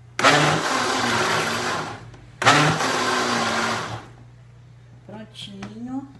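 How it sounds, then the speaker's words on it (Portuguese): A blender whirs loudly in two bursts of about two seconds each, stopping abruptly between them, followed by brief clinking and a short voice. "Vocês vai no pulsar do seu liquidificador."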